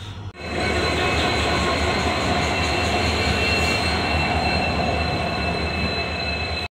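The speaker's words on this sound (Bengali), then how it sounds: "ট্রেন কুয়াশা অতিক্রম করিয়া মানে ছেদ করিয়া এরকম ট্রেন আইছে" A late-night train on the New Karimganj to Agartala route pulls into a station through fog, with a loud continuous rumble and high, sustained wheel squeal, close and steady.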